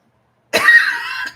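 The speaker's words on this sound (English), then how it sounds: "I have to get this big cough out." One person gives a single forceful cough that runs into a rough throat clearing, close and loud after a brief silence, with a short catch at the end.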